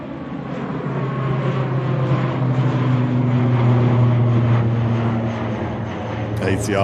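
ATR turboprop airliner departing toward the Isle of Man from Manchester Airport, a loud steady engine drone with a low tonal hum building and holding, heard alone at an airport.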